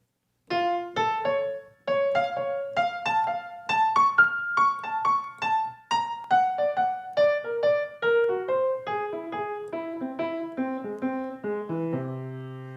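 A jazz pianist improvises outside the chord changes with cycled patterns, playing a fluid stream of clear single notes and small chords that climb, then wind downward, ringing out at the end.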